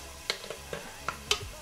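Food fries in a pan on a home stove, a soft bed of sizzle broken by a few sharp pops and crackles spaced irregularly, close and fairly quiet, with no talk.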